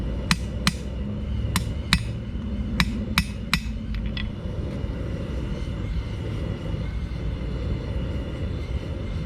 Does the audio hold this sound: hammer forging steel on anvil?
yes